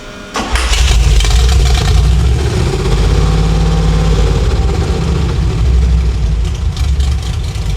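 A freshly built 350 engine on a dyno cranks, catches and settles into a loud, steady idle with a deep rumbling throb that runs continuously for several seconds.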